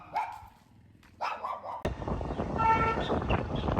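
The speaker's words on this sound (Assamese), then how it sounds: "কুকুৰটো পূৰা ভুকি আছে" A dog barks outdoors in the oil town of Duliajan, a couple of close barks heard first, then strong wind buffeting the microphone and masking everything.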